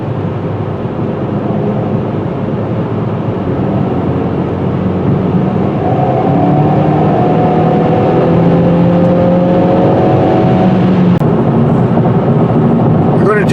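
A 2021 Hyundai Veloster N Turbo cruises on the freeway, its engine drone and road and wind roar filling the cabin steadily and loudly, with a faint rising tone partway through.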